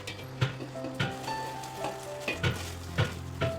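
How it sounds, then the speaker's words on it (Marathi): Soaked sago goes into boiling water seasoned with chilli powder and salt and is stirred in a pot, giving a soft bubbling hiss punctuated by about six regular scraping stirs, close up and with no talking. "तर आपण त्यामध्ये आता भिजलेला साबुदाणा घालूया."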